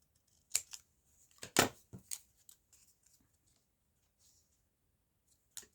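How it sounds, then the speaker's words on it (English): Scissors cut through coffee-dyed cardstock in a few quiet, close snips and clicks, separated by near silence. "This is actually on coffee dyed cardstock. Let's cut one off."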